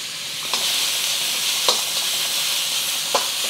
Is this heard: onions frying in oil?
yes